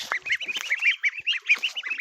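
Ducks and geese crowd around at feeding time, a dense run of close, loud nasal honks and quacks overlapping in quick succession.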